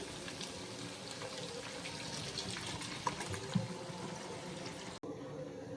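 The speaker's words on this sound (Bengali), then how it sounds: "আর এখন দেবো পরিমাণ মতো জল" Water poured into a pot of chicken curry, a steady continuous splash and trickle held at an even level, close by, with no voices over it.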